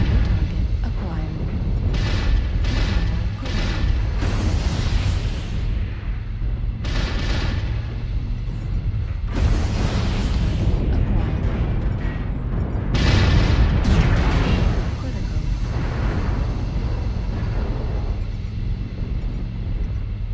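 Autocannon fire and booming explosions in the MechWarrior Online combat game, heavy repeated blasts with rumbling low end and bursts of louder impacts throughout.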